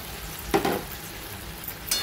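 Fried baby corn is dropped into a bubbling Manchurian sauce, with a sharp splash and sizzle at the start and another short burst near the end over a low, steady simmer.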